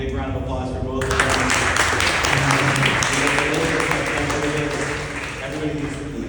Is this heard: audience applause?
yes